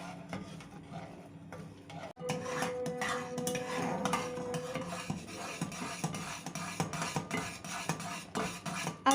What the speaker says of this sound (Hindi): अभी भी लगातार इसमें चम्मच चलाते रहेंगे